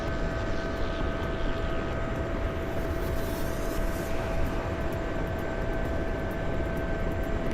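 An aircraft taxiing in a video game gives a steady engine drone with a constant whining tone, heard alone and without talk for the whole stretch.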